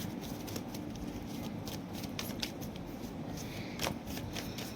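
Tarot cards being shuffled by hand, a soft, continuous riffling and flicking of card stock with small sharper snaps, quiet and close, with no talk over it.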